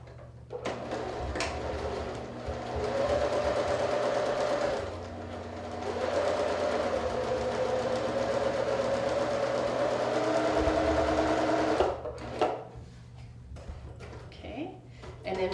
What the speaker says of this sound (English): And then we'll take those 2s and 2s and sew them together.